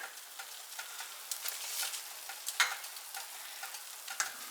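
Egg sizzling and crackling in a hot pan beside melting cheese, a steady soft fry broken by small pops and ticks, close and fairly quiet, with no one speaking.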